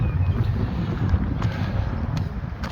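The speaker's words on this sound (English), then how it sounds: "it's too windy. I might not be getting much." Wind buffets the microphone with a constant low rumble and roar outdoors at an abandoned cemetery, steady and fairly loud throughout, with no one talking.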